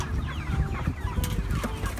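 Cornish Cross meat chickens, about two months old, cluck and murmur in a busy flock, with soft overlapping calls and a few sharper squawks close by.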